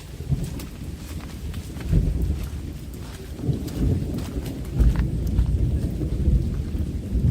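Low rumbling thunder rolls under a steady patter of rain, with occasional heavier bursts over several seconds.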